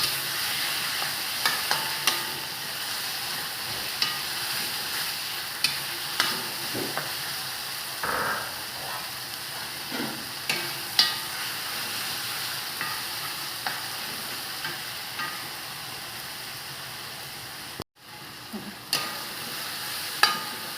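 Whole tomatoes fry with a steady sizzle in a hot pan, a spatula scraping and stirring through them in frequent short knocks, close and continuous with no voices.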